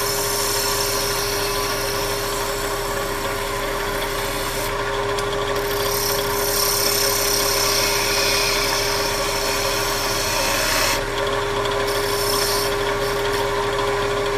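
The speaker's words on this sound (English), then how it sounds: "Now keep working it in towards the center, rolling the gouge out to the edge." A wood turning gouge cutting a small snowman Christmas ornament on a spinning lathe, a steady loud scraping rasp over the motor's constant hum, with brief changes in the cut's tone.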